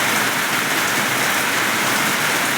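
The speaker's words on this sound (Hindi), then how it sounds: "देखिए बारिश हो रही है अभी" Heavy rain pours down in a dense, continuous roar, loud and close, with no pauses or voices.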